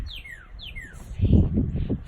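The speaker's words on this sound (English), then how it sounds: "I think I also hear some birds chirping" Two descending bird chirps ring out clearly outdoors, followed by a low rumbling, shuffling noise nearby.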